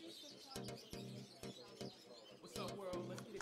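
Parrots chirp and call repeatedly over a busy pet shop background, with sharp, irregular clicks and squawks scattered throughout.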